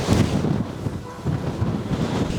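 Strong wind gusting outdoors in zebra country, buffeting the microphone with loud, low rumbling surges that rise and fall in waves, with no voices.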